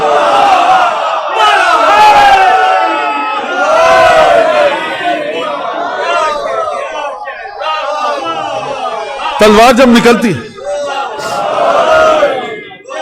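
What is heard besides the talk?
crowd chanting Ya Ali slogans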